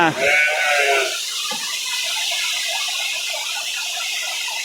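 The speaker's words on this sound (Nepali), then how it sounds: "भेडा पनि छन् यता भेडा खानेले भेडा पनि छन्" A sheep at a livestock sale gives one loud, close bleat at the start, followed by a busy crowd murmur and livestock noise.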